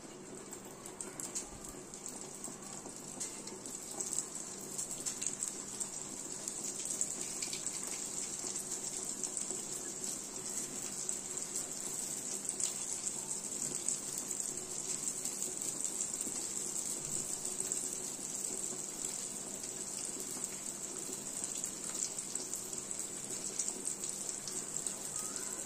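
Punugulu batter fries in hot oil at Subbayya Hotel in Kakinada, a continuous soft hiss and crackle of sizzling that holds steady from start to finish.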